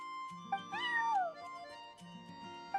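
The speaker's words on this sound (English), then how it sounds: "that's my neighbor's cat" A cat meows in the Genshin Impact video game: one drawn-out, falling meow rises clearly above a quiet game backdrop and fades away, with no talking.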